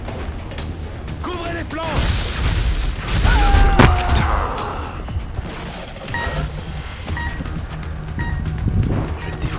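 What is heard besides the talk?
gunfire in XCOM Enemy Within video game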